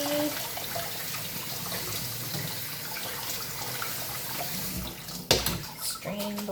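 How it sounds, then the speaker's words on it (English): Cooked pasta is rinsed under a running kitchen tap, a steady hiss of flowing water with a sharp splash and clatter near the end, and a voice talking faintly over it. "So just kind of rinse this until it gets cold and nice and chewy."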